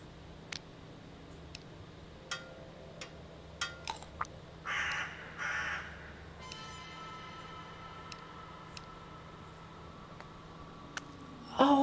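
Crows cawing in the horror video game Bad Dream: Coma, a couple of harsh caws in the middle over a quiet, steady ambient hum with scattered faint ticks and clicks, no talk.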